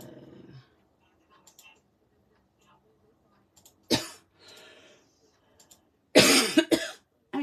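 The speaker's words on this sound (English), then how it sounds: "sorry about that cough" Two harsh, loud coughs, the second a rough burst of several, separated by quiet stretches with faint rustling.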